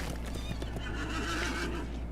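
A horse whinnies loudly and close in a video game, set against steady clip-clop hoofbeats and a constant background hum while riding.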